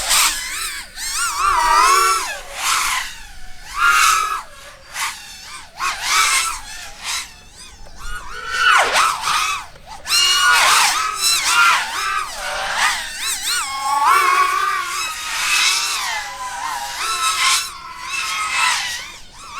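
FPV racing drone on 4S batteries flown at full throttle, motors whining in high, rapidly bending pitches that surge and dip with each maneuver, loud and close throughout in repeated bursts.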